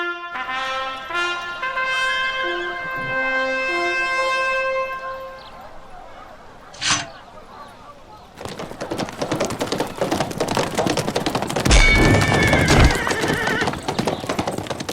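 A horse whinnies in a Playmobil jousting video game: a long, clear neigh is followed by a thud, then a loud, steady clip-clop of galloping hooves that runs to the end.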